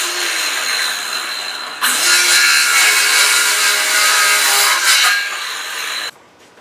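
Handsaw cutting freehand through wooden coffin lid boards, a loud, steady rasping stroke sustained for several seconds before stopping abruptly, with no talk.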